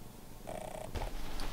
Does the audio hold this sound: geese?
no